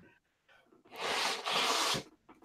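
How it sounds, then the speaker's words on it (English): A person blows their nose in a close, forceful nasal honk lasting about a second, made of two strong bursts, with quiet sniffs and breaths before and after. "I'm gonna blow my nose"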